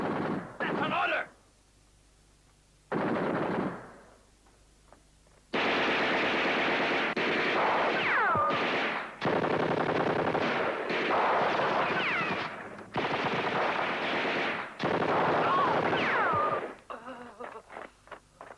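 Heavy gunfire and artillery roar in a World War II desert battle scene at El Alamein, loud bursts of machine-gun and rifle fire in long sustained stretches broken by brief lulls, with shouting voices mixed in.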